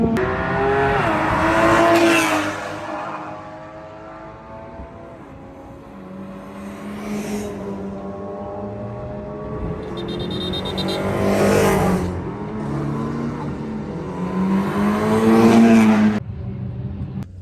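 A BMW M4 runs flat out uphill on a race track, its engine loud and close, rising in pitch through repeated upshifts and surging in waves, with other cars passing.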